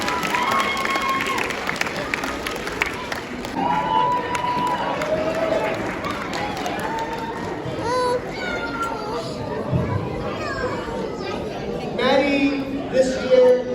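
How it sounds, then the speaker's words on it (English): At a school gala held at the Hawaii Okinawan Center, a crowd claps and cheers with children's voices mixed in, a continuous busy roar under a speaker's amplified talk and occasional higher shouts. "One more round of applause."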